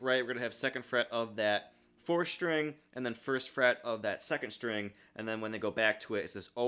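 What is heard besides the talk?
No everyday noises stand out.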